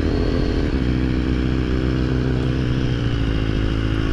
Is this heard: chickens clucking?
no